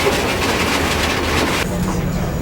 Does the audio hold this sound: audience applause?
no